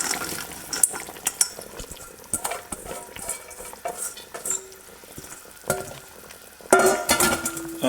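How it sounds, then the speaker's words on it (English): Spring onions go into a pan with tender lamb for a Greek fricassee, followed by close stirring, scraping and wet sizzling with clinks of a utensil against the pan. "In go the spring onions."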